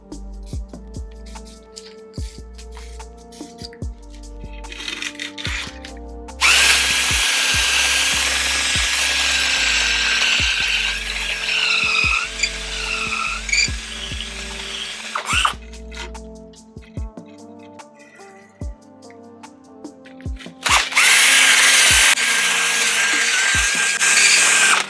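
A drill spins a Flex Hone inside an old suspension fork being cleaned with citrus degreaser, giving loud bursts of whirring, grinding abrasion between quieter stretches broken by sharp knocks and clicks.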